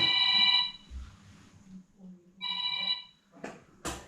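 A telephone rings with an incoming call in two bursts of electronic ringtone separated by a pause, with faint background voices and clatter between the rings.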